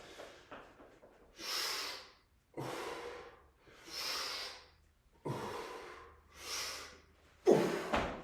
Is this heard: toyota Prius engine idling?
no